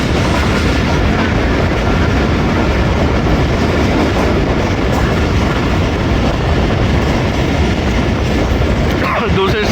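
Rehman Baba Express passenger train passing Kala Gujran, a loud, steady roar of wheels on rails with rhythmic clickety-clack running throughout, close by and unbroken for the full length.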